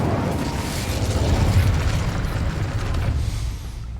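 An Incendio fire spell cast in Hogwarts Legacy bursts out as a loud, rumbling whoosh of flame that swells for a couple of seconds, then tails off and fades.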